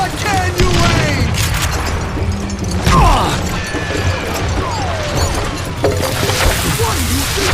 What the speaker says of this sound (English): Who said you could throw dynamite?